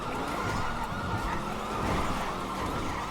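Police sirens in the GTA video game keep wailing over a dense, noisy road rumble, loud and unbroken throughout.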